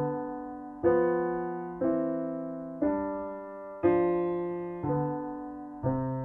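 Two-part harmony ending on an octave C, played as seven struck, decaying chords in an even, unhurried rhythm, clear and close, with no one talking.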